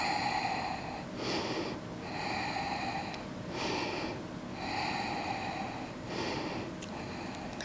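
Slow, deep breaths drawn in and let out while holding a leg-binding yoga pose in a dragon-pistol leg flow, roughly four unhurried cycles of airy, close inhale and exhale with no talking.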